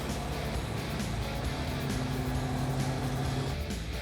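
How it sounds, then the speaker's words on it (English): A Mopar super car's engine idles steadily at close range with the top down, a continuous low rumble holding even throughout without revving. "God, it's even idling nice."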